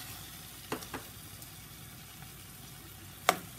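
Canned beans tossed into a hot pan with their water, giving a soft continuous sizzle and bubbling at low level, broken by a few faint clinks and a sharper utensil knock near the end.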